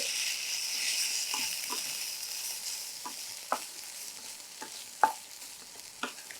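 Beans chaat being stirred in a hot pan: a steady sizzle runs throughout, with scattered scraping clicks of the spoon against the pan, a few sharper taps standing out near the end.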